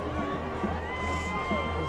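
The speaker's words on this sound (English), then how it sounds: "Still got some good spirit going on over there. Yeah, that's good. Good cheering." Crowd noise and cheering from spectators at a high school varsity football playoff game, Refugio versus Santa Maria, a steady distant roar of voices with no single loud burst.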